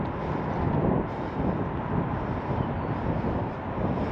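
Strong wind roars steadily and loudly across an outdoor microphone, a dense continuous rumble with slight gusting swells and no voices.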